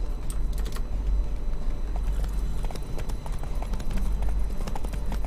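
Steady clip-clop of horse hooves at a trotting rhythm in the video game The Witcher 3 over a constant low rumble, fairly close and continuous throughout.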